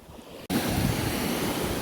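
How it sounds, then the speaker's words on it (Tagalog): Small waves washing onto the Dead Sea shore in Jordan, a sudden loud, broad rush of surf after a brief quiet moment, with wind buffeting the microphone. "Pag nasa taas kala ko wala siyang alon. May alon din pala."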